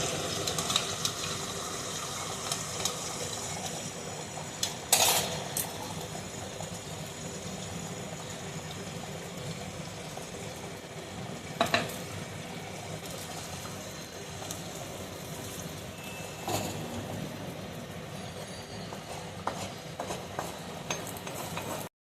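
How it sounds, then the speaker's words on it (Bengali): Salted beaten egg fries in a little oil for scrambled egg, a quiet steady sizzle with a few sharp stirring scrapes at intervals over a low background hum. "প্রথমে একটু সামান্য তেল দেবো, দিয়ে আমি ডিমটাকে ভেজে নেবো, ভুজিয়াটা করে নেবো"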